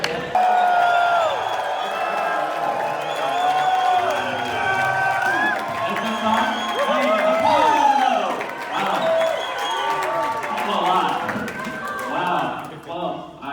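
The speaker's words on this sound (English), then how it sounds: "Not expecting that big of a cheer" A conference audience erupts in a big, sustained cheer with whoops, shouts and clapping, staying loud and lively throughout with many voices overlapping.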